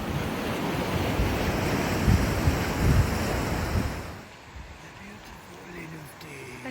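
The River Dee in the Cairngorms rushes along as a broad, steady roar of flowing water with some wind buffeting, fairly close, then fades abruptly to a quieter, softer wash partway through, with a voice briefly talking.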